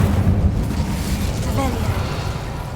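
The Incendio fire spell is cast in Hogwarts Legacy, a rumbling, eruptive burst of flame with a low, continuous roar and a brief tonal shimmer partway through.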